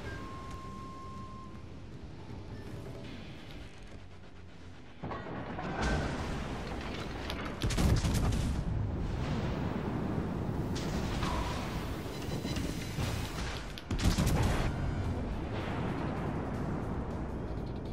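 Naval gunfire from the battleship Massachusetts in the World of Warships: Legends game, heavy booming salvos arriving in several loud bursts over a continuous rumbling battle backdrop.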